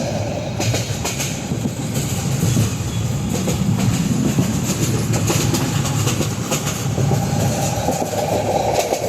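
Riding inside a passenger train carriage near a window on a journey to Mymensingh, a steady low rumble carries a rhythmic clatter of wheels over rail joints, loud and continuous.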